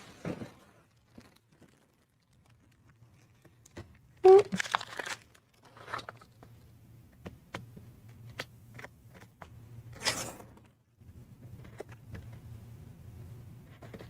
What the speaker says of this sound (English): And then you just score it like that, and you can rip that off.